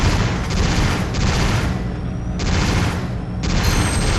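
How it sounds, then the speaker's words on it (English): Repeated loud gunshots aimed at generator switches in the video game Dino Crisis 3, booming blasts landing roughly every second with mechanical clanks between them, no talking. "The power generator has to be shut off by shooting specific switches on it."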